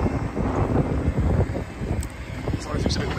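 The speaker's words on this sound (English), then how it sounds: "Sorry if it's a bit windy." Wind blows across the microphone outdoors beside a Cat excavator riddle bucket job, a low rumbling buffet that rises and falls in gusts, with faint talk underneath.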